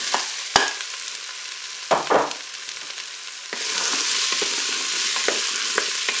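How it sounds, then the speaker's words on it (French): Potatoes tumble into curry-dusted onions frying in a Cookeo with a couple of sharp knocks and a rattling drop, then a louder, steady sizzle sets in with light clinks of stirring, close and without voices. "Je vais ajouter mes pommes de terre."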